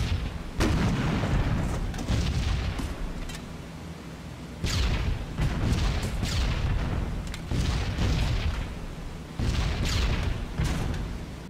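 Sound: anti-aircraft flak bursting around B-17 bomber in video game

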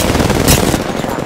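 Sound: gunfire in Apex Legends video game

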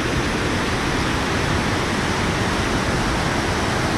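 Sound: water flowing down from above in a valley, Artvin

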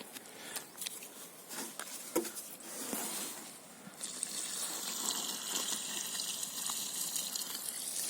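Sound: water poured from bucket and watering can into hole

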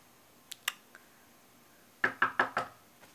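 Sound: knocking on a bedroom door

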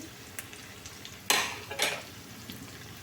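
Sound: frying chhana (cottage cheese) fritters in a pan

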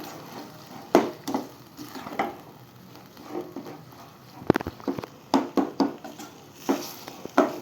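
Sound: stirring mashed brinjal (eggplant) sabji in a pan

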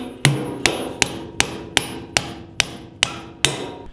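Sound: hammer pounding anchor bolts into concrete for vehicle lift

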